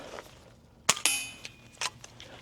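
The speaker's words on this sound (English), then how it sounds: "Fish it out, slide it in, and you got your mag change" Magazine change on an FX DRS Tactical Compact air rifle: a few sharp metallic clicks and clacks in close succession as the mag is pulled out and slid back in, close and crisp over quiet background.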